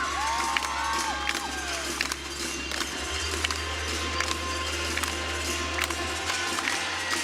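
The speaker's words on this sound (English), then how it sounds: "Seeing her teammates cheer her on" Teammates cheer from the sidelines during a collegiate gymnastics floor routine in a gym, with a steady crowd murmur and occasional shouts and whoops throughout, under a low musical hum.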